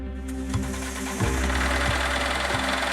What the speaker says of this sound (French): Olivier entend le bruit du moteur